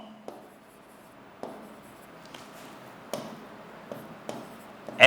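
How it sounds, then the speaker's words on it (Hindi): A physics formula written by hand during a projectile motion lesson, with faint scratchy strokes and a few sharp taps at irregular intervals against a quiet room background. "तो हम यहाँ पे लिख लेते हैं"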